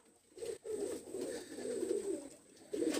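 A Teddy pigeon coos softly in a few low, rolling phrases close by, with short pauses between calls in a quiet room.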